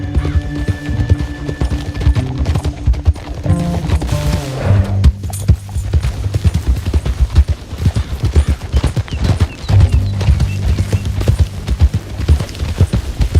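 Horse hooves clip-clopping at a brisk, steady trot across the ground in Red Dead Redemption 2, loud and continuous, with low rumbling game ambience underneath.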